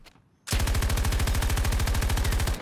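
Sustained automatic weapon fire in a video game recoil test: a rapid, steady stream of loud close shots starting abruptly after a brief quiet moment and continuing without pause to the end.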